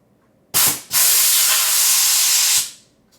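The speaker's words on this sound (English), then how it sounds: "That's the compressor that's on." A Vertha Air 20 air compressor gives a loud, close, broadband hiss: a short burst, a brief dip, then a steady blast lasting about two seconds before it cuts off.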